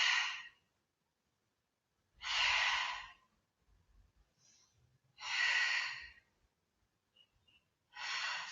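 Slow, deep breaths during a Pilates twisting exercise: four long audible exhales or sighs spaced a few seconds apart, close and clear, with faint shuffling between them in a quiet room.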